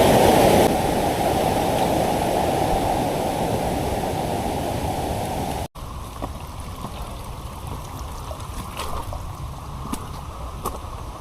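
Water rushes along a jungle stream at a waterfall crossing point on a forest trail, a dense steady hiss that drops abruptly partway through to a quieter flowing murmur, with no talk.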